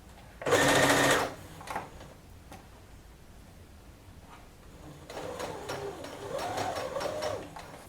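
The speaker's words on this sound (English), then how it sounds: "So we're gonna sew it." A home sewing machine stitches a face mask made from a pillow and sheet cover, a loud rapid burst at first, a pause, then a longer, quieter run of stitching with some fabric handling.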